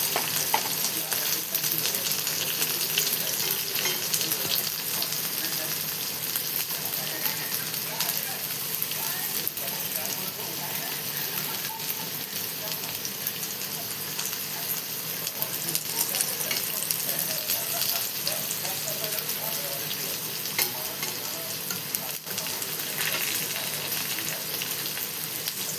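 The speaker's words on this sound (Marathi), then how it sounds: "सगळी भेंडी आपण अशी फ्राय मस्त करून घेऊया." Okra (bhindi) fries in hot oil in a pan and is stirred to make masala bhindi, with a loud, continuous sizzle and crackle and faint scraping from the stirring throughout.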